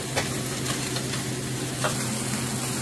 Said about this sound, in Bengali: এটা তো মাছ ভাজা হচ্ছে